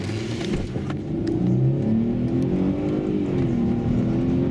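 A Mercedes-Benz ML350 with a 3.5-litre V6 running on LPG drives off from a standstill, its engine note steady and close with a gradually rising tone as it pulls away, no talk over it.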